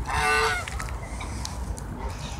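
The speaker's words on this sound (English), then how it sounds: "That's Canadian goose." A Canada goose at a park gives one loud, nasal honk close by, followed by quieter outdoor background with faint distant calls.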